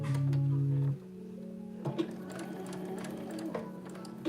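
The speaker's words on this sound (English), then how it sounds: "Right now, my job is sewing" A sewing machine stitching up a pattern runs in a steady, loud whirr for about a second, then stops, followed by quieter handling clicks and rustles up close, no talking.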